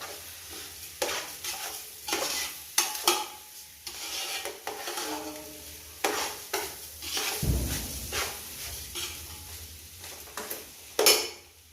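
Biryani rice is fried and stirred in a hot pan: a spoon scrapes and rakes through the grains again and again in an uneven rhythm, over a constant close sizzle, with occasional clinks against the metal.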